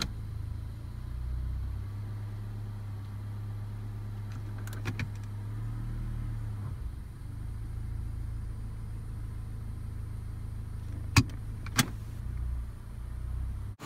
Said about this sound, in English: Engage the parking brake and let the engine idle.